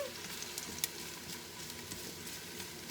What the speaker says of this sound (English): So my onions are caramelizing.